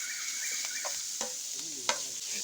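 Pork belly is stir-fried with curry paste in a hot pan, with a gentle continuous sizzle and a few quick scraping strokes of a spatula against the pan.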